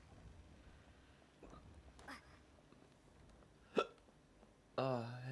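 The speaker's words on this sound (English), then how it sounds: "Ah, I had fucking hiccups." Hiccups from a hungover person, a few sudden sharp catches spaced apart over low background noise, with a louder burst near the end.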